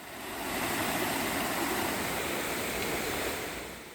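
A waterfall in Guryong Valley pours in a steady, broad rushing roar that swells in and holds evenly, loud and close with no voices.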